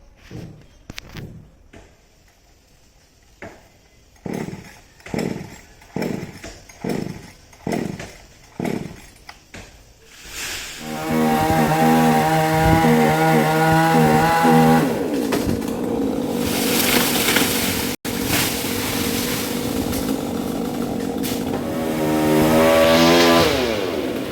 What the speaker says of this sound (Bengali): এখন ওনারা মেশিন স্টার্ট করছে গাছ কাটবে বলে